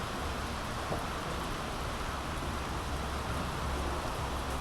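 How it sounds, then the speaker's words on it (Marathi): Dense, steady rain hissing down without pause, a broad wash of noise with no voices. "जोर जोराने पाऊस पडत आहे"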